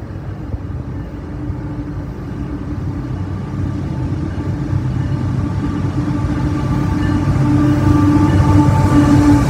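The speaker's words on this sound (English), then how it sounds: "Come outside and watch the trains go by." A train passes through Ashland, Virginia, beside a trackside restaurant. A steady, close rumble of rolling wagons swells gradually louder over the whole stretch, with no voices.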